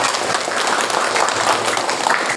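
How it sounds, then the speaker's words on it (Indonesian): Classroom students clap for a question during a lesson, a brief burst of dense, even clapping from a group, steady and close throughout. "Tepuk tangan dong pertanyaannya."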